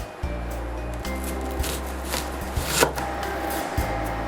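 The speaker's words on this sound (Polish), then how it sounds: "Czerwoną cebulę kroimy w około pół centymetrowe talarki." A knife slices a red onion into rings about half a centimetre thick on a cutting board, giving a steady series of close, crisp chops with soft rubbing between strokes.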